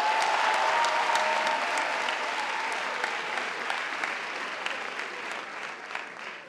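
Theatre audience at a French comedy show applauding, a dense, loud ovation that fades slightly toward the end, with no talking over it.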